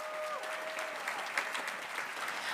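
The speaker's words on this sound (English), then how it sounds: "Please give her a round of applause." Audience applause at a school spring chorus concert, a steady wash of clapping from a crowd that holds evenly for a few seconds, with a faint tone in the background early on.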